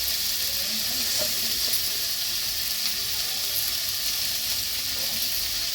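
Malabar spinach (pui shak) and mixed vegetables fry in a pan at home, giving a steady close sizzle and hiss with faint stirring scrapes and no talk.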